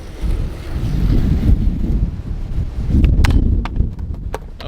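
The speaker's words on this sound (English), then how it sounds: "I hope that this camera, like the mic is good enough for the wind" Strong gusts batter a camera microphone outdoors during a skateboarding session in high wind, producing a loud, continuous rumbling buffet with some faint clicks and rattles toward the end.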